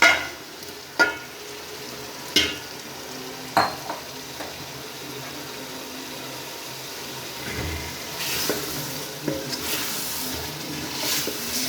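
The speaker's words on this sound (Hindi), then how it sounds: "अब इसमें गोश्त डाल दें।" Mutton marinated in masala frying in a pan for kaddu gosht, a few sharp clanks of stirring early on, then a loud steady sizzle building as the meat goes in, with no talk.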